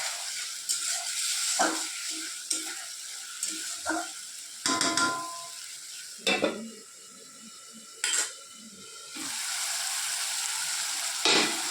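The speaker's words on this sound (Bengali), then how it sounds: "মশলাটা না ভালোভাবে কষিয়ে নিচ্ছি ঢেকে ঢেকে" Spice paste frying in a covered pan, a low sizzle under repeated sharp clanks and scrapes of a metal spoon against the pan and its lid, close up and without speech.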